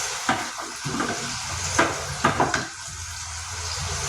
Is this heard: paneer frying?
yes